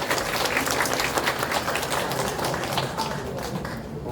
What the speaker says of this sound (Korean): 조홍철 변호사님 다시 한번 수고의 박수를 보내주시면 감사하겠습니다